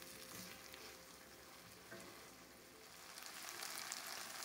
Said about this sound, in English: Mix the green peas with the onions and the spices so it will blend well. And cook for 10 minutes.